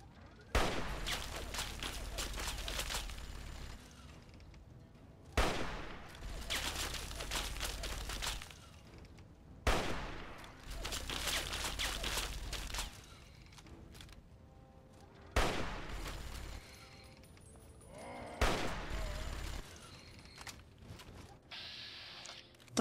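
Gunfire in Fallout 3: four or five sharp, loud shots or short bursts spaced several seconds apart, each ringing out with a boom and tail, with mechanical clicks between.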